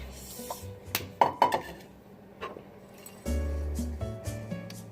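A mixture goes back into a bowl with close clinks and knocks of utensils on the dish, a few sharp taps, then a steadier low scraping and rubbing near the end.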